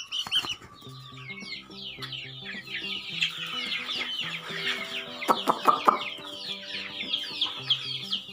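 Several chickens of about 300 grams, hatched in an incubator, cluck and squawk close by, with busy overlapping calls and a few sharper louder bursts near the end.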